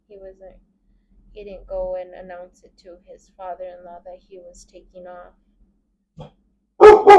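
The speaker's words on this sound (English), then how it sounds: "Sorry, that's our dog." A dog barks twice in quick succession near the end, loud and close, after someone talks calmly for several seconds with a faint single yip in between.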